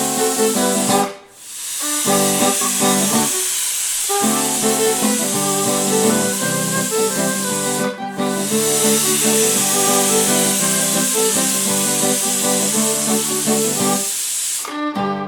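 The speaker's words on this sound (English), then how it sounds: "this pressure cooker is going to build steam, and it'll release the steam, or what we call a whistle" A pressure cooker cooking beef vents steam in a loud, continuous hissing whistle with a warbling tone, cutting off briefly twice before surging back, close by.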